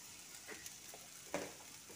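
Turmeric, red chilli powder and salt sizzle in a pan as spices are roasted for egg biryani, a soft steady frying hiss with a brief louder spatula scrape near the middle, no voices.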